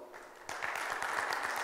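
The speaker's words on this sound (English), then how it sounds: "Quick round of applause." A conference audience gives a short round of applause that starts suddenly partway in, a dense patter of clapping at moderate volume that keeps going to the end.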